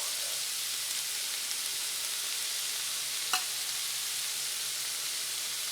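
Homemade sloppy joe sauce meets ground beef in a hot pan, producing a steady, even sizzle with a brief scrape of stirring partway through.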